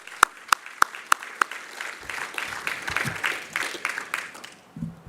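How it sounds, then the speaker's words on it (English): Audience applause for event sponsors opens with a few sharp, distinct claps. It then swells into steady, moderately loud applause from a room of people and fades near the end. "let's give them a special round of applause"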